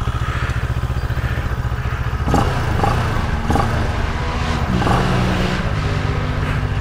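An idling Moto Morini Seiemmezzo STR 650 motorcycle engine putters steadily, then another vehicle rumbles past nearby, its drone rising and fading over a few seconds.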